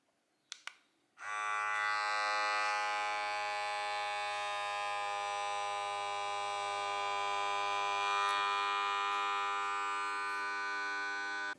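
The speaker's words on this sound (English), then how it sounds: "I'm just going to take the oxygen out of them with my little machine" A small vacuum-sealing machine pulling oxygen out of bags of freeze-dried tomatoes gives a steady loud mechanical buzz and hum, running unbroken after a couple of brief clicks at the start.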